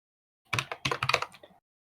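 A short burst of fast typing on a computer keyboard while using the Vim editor, with several close, crisp key clicks over about a second and nothing else audible.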